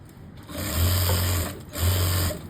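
A sewing machine stitches a belt strip onto a pair of pants, running in two steady bursts with a brief pause between them, close and fairly loud with no talking.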